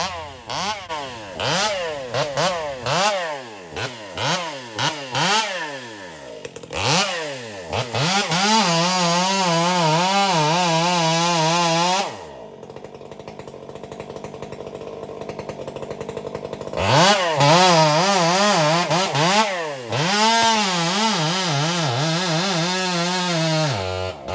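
A Stihl 500i chainsaw cutting dead hardwood trees in Pennsylvania: close, loud engine blips and revving bursts, then long sustained high-pitched cuts under load, a brief drop to idle midway, and another full-throttle cut afterward.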